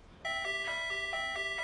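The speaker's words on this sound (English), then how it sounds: "what have you done to my doorbell?" An electronic doorbell plays a steady run of bright chiming tones, starting abruptly and continuing in a repeating melodic pattern, fairly clear and close with no talking over it.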